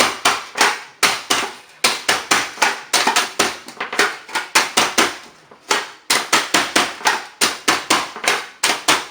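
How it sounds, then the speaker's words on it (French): Small manual kitchen chopper cutting pineapple pieces: repeated sharp chopping clacks in quick bursts of several strokes, with short pauses between the bursts, loud and close, no talking. "un petit hachoir manuel"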